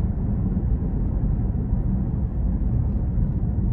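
A 2020 Cadillac CT6-V sedan's engine drones as a steady, loud low rumble during a test drive, heard from inside the car with no voices.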